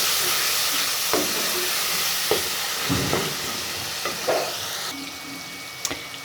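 Potato slices with salt and turmeric sizzle in a hot pan under a steady frying hiss, while a spoon stirs them with soft scrapes and occasional clunks.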